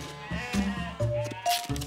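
Several sheep bleat in quick succession, loud and close, each call wavering and overlapping the next.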